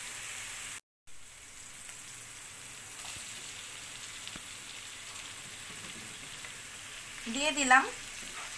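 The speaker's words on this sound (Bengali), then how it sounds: "এখন মশলার সাথে এটা একটু নেড়ে চেড়ে মিশিয়ে নিচ্ছি।" Beef tripe frying with spices in a pan gives a steady sizzle and crackle, building into louder stirring and spattering near the end, with a brief voice early on.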